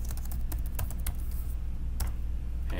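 Typing on a computer keyboard, a quick irregular patter of close key clicks with short pauses between bursts, over a quiet background hum.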